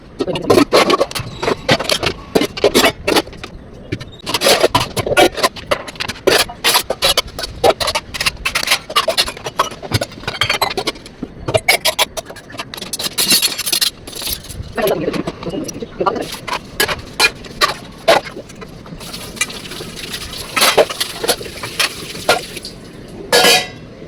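Dishes clatter and scrape in a sink with bursts of running water, in irregular clinks and rubs, while a person talks over it.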